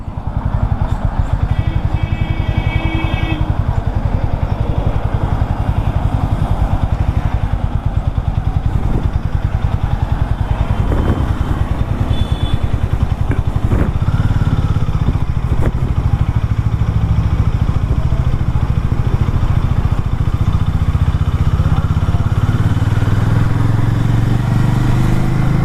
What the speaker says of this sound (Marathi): मी चाललो आहे हार्डली 440 टेस्ट ड्राईव्हसाठी